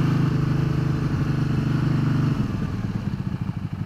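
A Can-Am Spyder three-wheel motorcycle picks up speed, its engine droning close and steady before shifting into a choppier, pulsing note as it accelerates.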